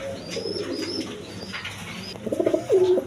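Pigeons coo at a market stall where birds are sold, the low rolling calls repeating close by and swelling louder toward the end over faint background chatter.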